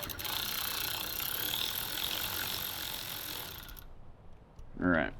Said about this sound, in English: I'm going to use a 12mm socket to take this top nut off. Just get that loosened up.